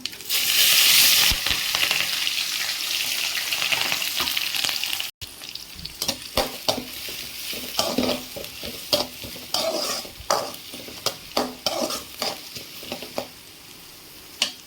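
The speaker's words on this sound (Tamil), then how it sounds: "இப்போ இதில் கடுகு போடுறாங்க" Mustard seeds frying in hot oil: a loud, bright sizzle at first, then a run of sharp, irregular pops and crackles as the seeds burst, close and without talk.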